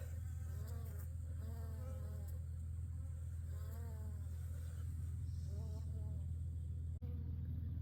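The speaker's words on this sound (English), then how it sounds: "She's trying to get a dead bee out of the hive." Dense, steady buzzing of many honeybees close by at a hive on a snowy day, a constant droning hum with faint voices murmuring in the background.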